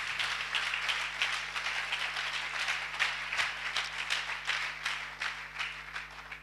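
A church congregation applauding together, a steady wash of clapping heard at a moderate distance over a low electrical hum.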